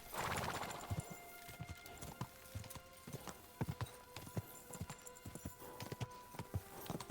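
Horse hooves clip-clopping at a gallop in the Kingdom Come Deliverance video game, a quick irregular run of hard thuds over faint background game noise, fairly quiet overall, with a brief neigh at the start.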